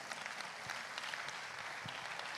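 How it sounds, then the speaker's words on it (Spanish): A church congregation at a conference claps together in steady, dense applause that holds at a moderate level throughout, with no voices over it. "Aplauda el nombre de Cristo Jesús"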